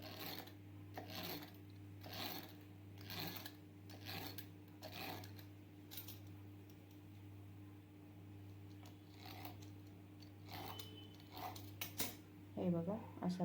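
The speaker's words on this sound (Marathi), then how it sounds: "आता हे चिरण्याने व्यवस्थित असं ह्याचे छोटे छोटे असे हे लच्छे असे कट करून घ्यायचे" A knife cuts rolled, oiled laccha paratha dough into thin strips on a board: a series of short, crisp scraping strokes in irregular bursts, close up, over a steady low hum.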